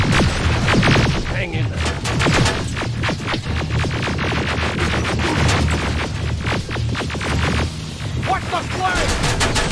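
Rapid bursts of gunfire from the video game Terminator Resistance rattle almost without pause, loud and close, with dense automatic fire and a few heavier booms while voices call out over the shooting.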